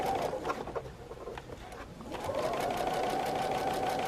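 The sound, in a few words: older sewing machine stitching a quilt block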